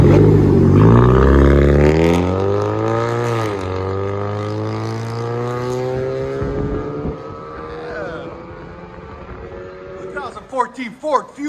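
A 2014 Ford Fusion four-cylinder with cherry bomb mid, muffler and resonator deletes and a 4-inch tip revs loudly up and down with a droning, rising exhaust note, then settles to idle before a few sharp blips near the end.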